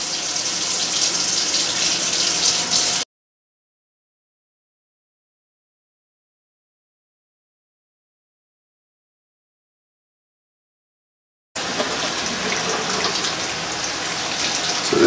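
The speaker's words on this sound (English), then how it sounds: "We're gonna put on some nice warm water, not really hot, not cold, same as for the babies, a little bit warm." Warm tap water runs steadily in a dense hiss for about three seconds, stops into silence, then resumes, rinsing a baby Sterling boa constrictor.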